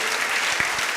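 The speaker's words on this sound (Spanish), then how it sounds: "Le va a dar un aplauso, déselo fuerte a Él." Church congregation applauding for Jesus, a brief burst of dense clapping from many hands, steady and fairly loud throughout.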